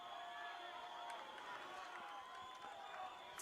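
Stadium crowd roaring steadily at a football game, a dense sustained wall of cheering with no breaks across the whole stretch.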